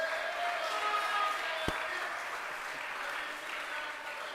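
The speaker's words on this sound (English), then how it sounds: "Let's give Melvin and his family a round of applause" A rally crowd applauds for Melvin and his family, a steady wash of clapping filling the room with a single sharp knock partway through.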